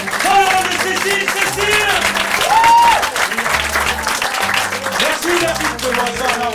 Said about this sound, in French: Vos applaudissements me font chaud au cœur, merci infiniment.